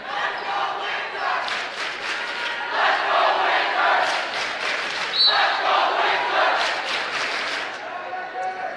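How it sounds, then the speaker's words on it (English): A crowd at a high school women's volleyball game cheers and shouts loudly and steadily from both cheering sections, with a few bursts rising and falling over the noisy gym. "Both cheering sections making a little noise here tonight."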